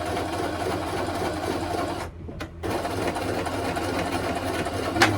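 A sewing machine stitching teddy bear fabric runs steadily with a fast mechanical whir, stopping briefly midway before resuming close and loud, no speech.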